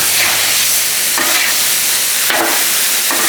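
Cowboy stir fry is stirred in a hot frying pan: three rough scraping strokes rise over a constant close sizzle and crackle of food cooking, with no talking.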